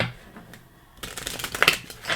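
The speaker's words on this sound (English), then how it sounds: "one more shuffle and then we're good to go and have a look at them" A deck of playing cards being shuffled, a quiet riffle and then a louder, busier burst of flicking card noise, close up with no talking.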